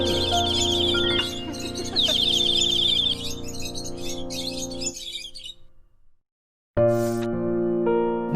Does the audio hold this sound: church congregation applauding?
no